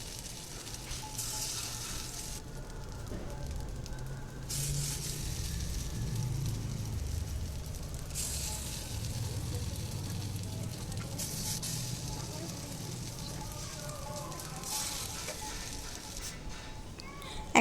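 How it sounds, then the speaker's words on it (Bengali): Small pancakes of oats, chira and semolina frying in white oil in a pan, giving a soft, steady sizzle that stays faint and even throughout with no talking. "কিন্তু আমি এটা সাদা তেল দিয়েই ভাজবো"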